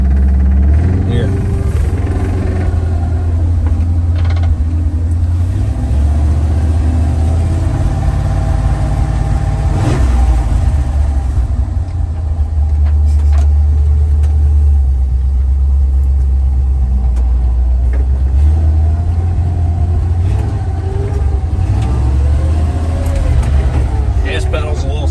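An old car's engine rumbles loud and close, its deep idle note rising and falling in several slow revs from a sticky gas pedal, with talk over it.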